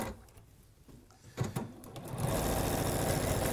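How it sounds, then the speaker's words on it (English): A domestic sewing machine stitches the side seam of a dress, starting after a few soft handling knocks and then whirring steadily and loudly at close range. "I'm just going down the second side seam now."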